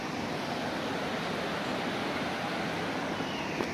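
Steady rushing flow of the Firtina stream, a mountain creek near a stone bridge, forming a continuous broad wash of water noise without speech, with a faint click near the end.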